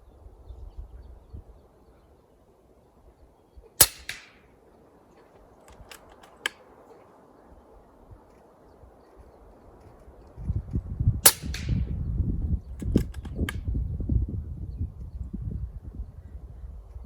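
FX Wildcat Mk3 .25 caliber air rifle firing hybrid slugs into a gallon jug of water: two sharp, loud cracks several seconds apart, a few fainter clicks, and a low rumbling noise late on.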